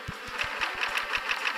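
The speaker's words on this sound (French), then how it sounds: "Là, il y a une ruche." A beehive buzzes in the puzzle game 12 Locks 3: a steady insect drone with rapid, regular low pulses running underneath, heard alone at moderate volume.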